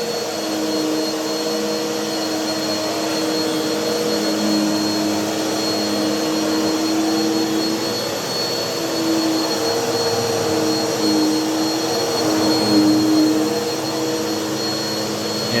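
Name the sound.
Bissell vacuum cleaner running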